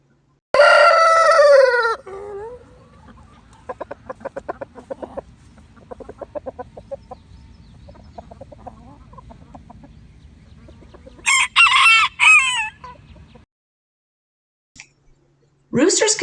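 Rooster crowing loudly several times: a long crow at the start, another burst near the middle and a short one at the end, over soft background clucking and murmuring, with human voices talking quietly between the calls.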